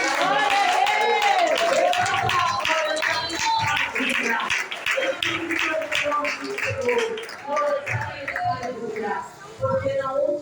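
A church congregation claps along during a worship service, with rhythmic handclaps running under singing and voices throughout.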